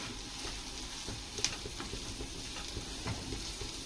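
Onions sautéing in butter for butter prawns give a soft, quiet sizzle with faint stirring taps, heard close and alone.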